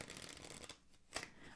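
Playing cards are shuffled up close in a soft-spoken ASMR setting, a brief papery riffle with a crisp flick near the end and no talking.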